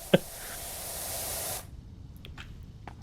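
A pressure washer in PowerWash Simulator 2 sprays with a steady broadband hiss, starting after a sharp click and cutting off abruptly, leaving faint clicks and quiet ticks behind.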